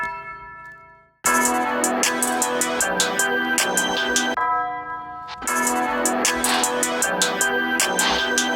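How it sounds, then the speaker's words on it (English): Tubular bell hits open a hip-hop beat arrangement, bright tonal strikes ringing over layered production; the pattern drops out briefly midway before the full loop kicks back in, loud and steady. "Start off with a quick tubular bell hit."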